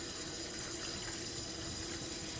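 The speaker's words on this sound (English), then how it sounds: "I'm just letting the water run and I'm talking to you" Kitchen tap water runs steadily into a sink during dishwashing, a constant dense hiss and splash with no change in level and no speech.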